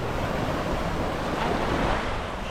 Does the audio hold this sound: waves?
yes